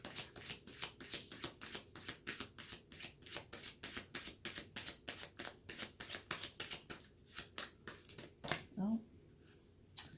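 A deck of tarot cards is shuffled by hand in quick, rhythmic riffles, crisp and close, repeating steadily before stopping, with a brief spoken exclamation near the end.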